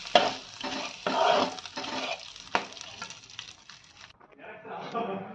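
Whole spices with cardamom and asafoetida fry briefly in a pan for dhaba-style paneer masala, a close crackling sizzle with scraping stirs while a voice talks over it.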